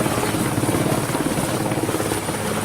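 A pair of Puma helicopters taking off, a loud steady rotor thump and turbine roar filling the whole stretch with no talk over it.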